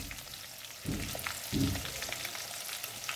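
Chicken for butter chicken frying in a pan, a faint steady sizzle with two louder bursts of stirring or movement partway through, no talk.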